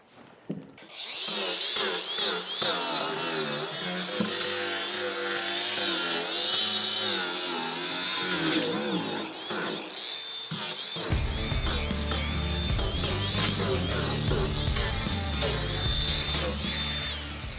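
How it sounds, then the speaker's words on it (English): Angle grinder fitted with a 36-grit flap sanding disc working over barn door wood: a loud, close, whining grind that rises and falls as the disc is pushed across the boards, then turns rougher and deeper partway through. "I got a flapped sanding disc here. It's 36 grit."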